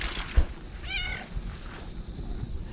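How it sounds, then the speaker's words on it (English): A stray cat gives one clear, rising meow nearby against low outdoor background noise, with a soft thump just before it and no talking. "See the kitty that's... Yeah, saw the kitty."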